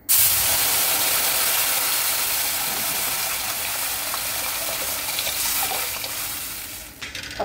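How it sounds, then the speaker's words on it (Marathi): A hot pan of ghee sizzles and hisses loudly the moment water goes in for rice kheer, a dense crackling roar that slowly eases over several seconds, with faint stirring clinks near the end. "पाणी घालून घेते"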